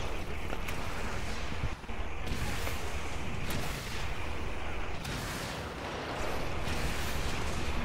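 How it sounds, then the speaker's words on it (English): Gunfire and explosions from the video game Transformers: Fall of Cybertron rumble and pop in a steady, dense wash of shots and blasts at moderate volume. "Why are you shooting?"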